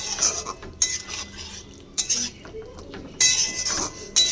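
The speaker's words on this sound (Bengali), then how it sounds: "এবার ধনেপাতা দিয়ে ভালো করে একটু নাড়িয়ে নেব" Coriander leaves stirred into a curry in a pan, with a metal spoon scraping and clinking against the pan in short bursts separated by pauses, close and fairly loud, with no talking.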